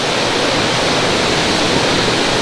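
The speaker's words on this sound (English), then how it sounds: "I hope y'all can hear me over the roar of this water" A roaring waterfall pouring through a quartzite funnel in Ouray, Colorado, a loud, dense, unbroken rush of water heard close up and alone.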